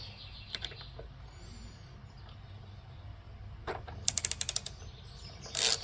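A ratchet with a 5/8 inch socket loosening the spark plug on a Briggs and Stratton 550EX engine: a few faint clicks, then a quick run of about six sharp close ratchet clicks and a final burst.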